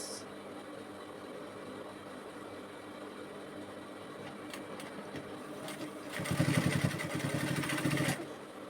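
A sewing machine stitches a pleated bonnet cap along a 2-inch line, its motor humming steadily before speeding into a louder, rapid rattling run for about two seconds, then easing off.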